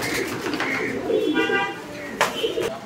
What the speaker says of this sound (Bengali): আমরা এই মুহূর্তে দেখতে পাচ্ছি আরো এক জোড়া কবুতর, এটা লাহোরি কবুতর